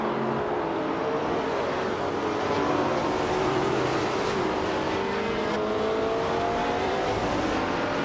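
Race cars launch at the start of a video game race, a dense, loud, continuous engine roar with several rising motor tones layered together and a steady broadband rush throughout.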